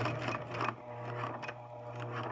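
A sewing machine stitches a zipper seam on a fabric project bag, a soft, steady motor hum with faint needle rattle that pauses briefly and resumes, quiet and close.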